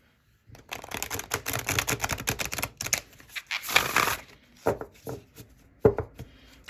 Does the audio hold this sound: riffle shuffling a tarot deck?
yes